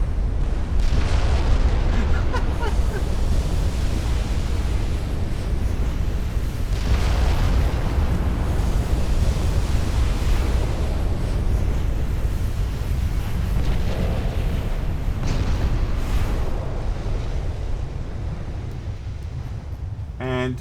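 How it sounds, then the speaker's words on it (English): Explosions rumble through a naval battle in a 1910 Austrian campaign strategy game, deep booming blasts and crackling bursts layered over a continuous low roar, several distinct hits spaced across the stretch. "And I've just noticed the other one's exploding."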